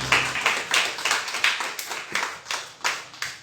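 A church congregation claps in steady unison, a regular rhythmic beat of about three claps per second, close and crisp, with no talking over it.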